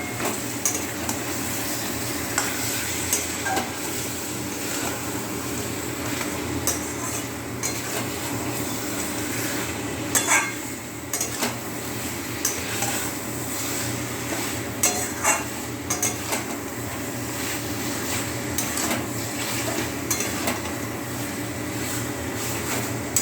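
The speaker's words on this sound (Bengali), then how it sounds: "মাংস দিয়ে একটু কষে নিই একটু" Boiled mutton is stirred and fried in spice masala, with a steady low sizzle under repeated scraping and clinking of a spoon against the pot. Background hum, no speech.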